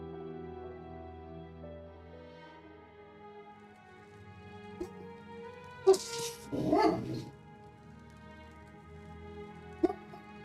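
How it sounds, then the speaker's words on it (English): A 135-pound English Mastiff lets out a few loud, deep barks, two in quick succession and another a few seconds later, over a steady hum of background game music. "she's a 135-pound English Mastiff and she gets loud"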